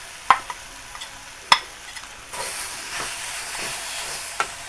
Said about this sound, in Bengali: দিয়ে একটু ভেজে নেব।